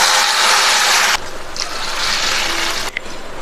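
Water pours into a pan of cooking vegetables for ghee upma, a steady rushing splash that cuts off after about a second, followed by softer sizzling and stirring.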